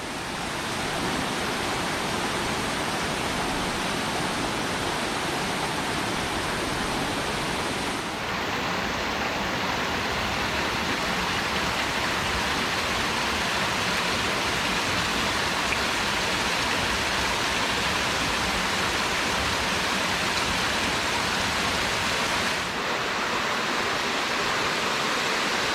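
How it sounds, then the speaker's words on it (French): A 40-metre waterfall plunges into a large pool, producing a steady, dense roar of falling water that fills the whole span at constant loudness with no voices. "La cascade de 40 mètres qui tombe là, dans la grande vasque qu'on voit pas ici."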